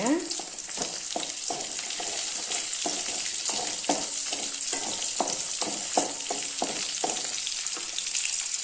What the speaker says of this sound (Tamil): இதுவும் நல்லா எண்ணெயிலேயே நல்லா வதக்கிக்கலாங்க